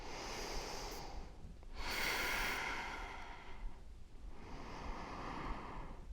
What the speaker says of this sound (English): Let's take 3 more breaths.